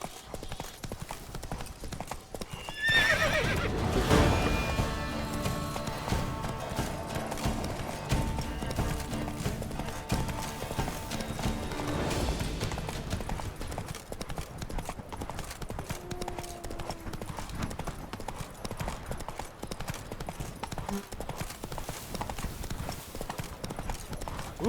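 Horse hooves clip-clop steadily at a gallop through a fantasy video game, the hoofbeats continuing for most of the stretch, with a brief whinny and some game music and ambience beneath.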